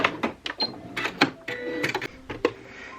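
A sewing machine stitches a patchwork Christmas stocking in short rapid bursts, each a sharp mechanical clatter with a few high whirring tones between them, close and fairly loud.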